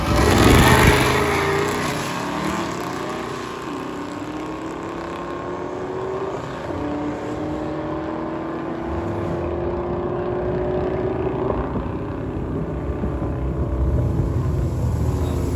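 A bubble top drag car makes a pass at Drag Week, its engine roaring loudly at first, then climbing through several rising gear pulls as it speeds away and fades into the distance.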